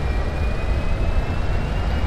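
Airliner cruising in the X-Plane 10 flight simulator, a steady, loud, broadband engine roar with a faint high whine, continuous and unchanging, with no talk.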